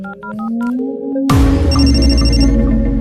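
Telephone ringtone in an Indian film scene: a few short electronic rings, then a louder, dense burst of ringing tones sounding close over a background score, no talk.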